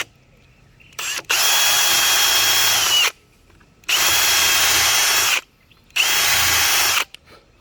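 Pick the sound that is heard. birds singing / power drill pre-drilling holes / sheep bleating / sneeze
power drill pre-drilling holes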